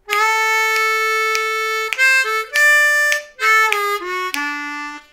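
A G harmonica plays a second blues lick built on a held four-hole draw note, with repeated rhythmic articulations and short bent notes dropping lower near the end, bright, close and unaccompanied.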